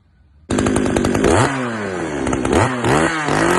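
A motorcycle fitted with a Yusen exhaust muffler starts up abruptly and revs loudly and close, the engine note rising and falling through several throttle blips with a rough, raspy edge.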